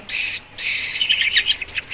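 High, insistent chirping calls from a hungry baby hawk, two bursts close by with a short pause between, the second longer and trailing into rapid chirps.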